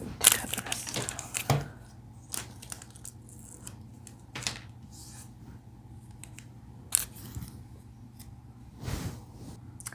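Scissors snip through paper for a scrapbook page in a few short, crisp cuts with rustling between them, close and fairly quiet, with long pauses between the sounds.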